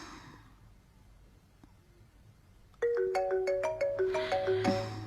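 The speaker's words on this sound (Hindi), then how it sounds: "रे का फोन है।" A mobile phone ringtone announcing a call from Ray starts abruptly after a quiet, hushed room and plays a bright repeating melodic pattern of clear electronic notes, fairly loud and close, with a low rumble building under its final notes.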